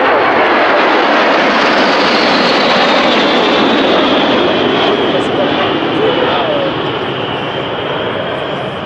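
An L-39 Albatros, a two-seat single-engine Czech jet, flies a team airshow display at the Belgian Air Force Days, its loud broad jet roar sustained throughout and easing slightly toward the end.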